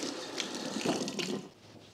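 Tap water runs steadily from a kitchen faucet, wetting a cleaning pad used on a flat-top stove, a close, continuous splashing stream that eases off near the end.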